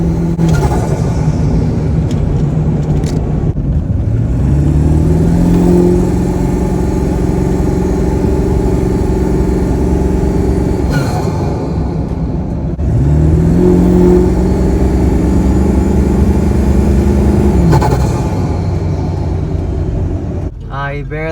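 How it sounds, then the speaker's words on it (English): A Ford 7.3 Powerstroke diesel truck on its stock turbo pulls hard at wide open throttle, engine note climbing through two long rising sweeps with a shift in between, loud and close, with people talking over it. "we're basically wide open throttle now"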